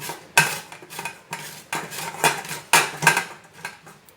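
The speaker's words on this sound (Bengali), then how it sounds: "এবার পেঁপেটা গ্রেট করে নেব এরকম করে গ্রেট করে নেব" Peeled, scooped-out papaya being grated by hand for a sweet papaya laddu, making a close, steady run of rasping strokes about every half second, with no talk.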